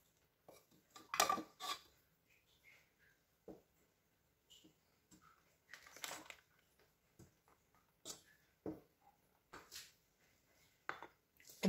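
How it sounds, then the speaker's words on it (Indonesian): A metal paddle beater clicks and clatters as it is fitted onto a stand mixer, giving a few short, close knocks and taps with quiet pauses between them. "Kemudian kita pasang baling-baling pedalnya."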